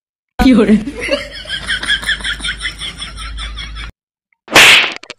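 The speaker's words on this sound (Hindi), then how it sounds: "छींक रहे हैं यहाँ" A person sneezes once in a barber shop, a short sharp burst close by that stands apart after a stretch of laughing and talking voices.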